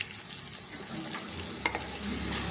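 Tomatoes sizzling in a pan over low heat for homemade pasta, a soft frying hiss with a couple of stirring knocks, faint and close.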